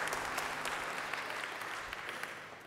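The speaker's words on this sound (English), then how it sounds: "A big applause for them." Guests at a church wedding clap for the couple, a fairly soft, steady patter of many hands echoing in the space and tapering off toward the end.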